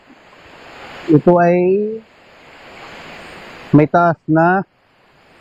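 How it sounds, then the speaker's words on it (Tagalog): Rushing water of Mimbalot Falls in Buru-un, Iligan City, forms a steady, even roar throughout, while someone talks over it in short bursts. "rinig natin yung ragasa ng tubig mula sa itaas bahagi ng falls"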